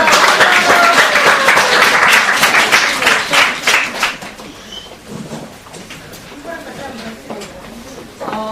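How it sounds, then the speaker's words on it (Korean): A seminar audience of students and parents gives the director a big round of applause on arrival, loud dense clapping that tapers off after about four seconds into a quieter hall with faint voices. "원장님 나오셨습니다. 큰 박수 부탁합니다."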